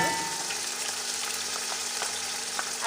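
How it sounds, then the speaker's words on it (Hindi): Ginger and green chilies frying in hot oil make a loud, continuous close sizzle with scattered pops and crackles, over a faint steady hum. "हम इसमें सबसे पहले डालेंगे अदरक और मिर्च"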